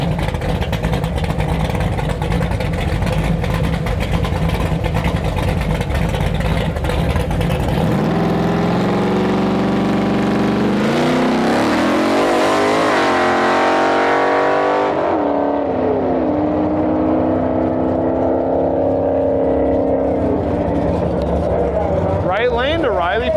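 Drag racing cars, including a four-eyed Fox body Mustang, launch and roar down the strip at Interlake Dragway, engines revving loudly with rising pitch sweeps, under a commentator's voice.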